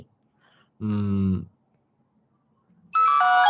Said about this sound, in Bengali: এটা ফোন ঢুকে গেছে অলরেডি ফোন ঢুকে গেছে